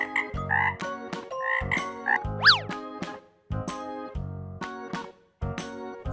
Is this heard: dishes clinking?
no